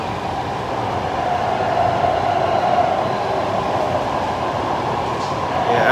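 A Taipei Metro subway train runs on its line, making a steady, loud rumble and rushing hum that holds level throughout, with faint rising squeal near the end and no talking.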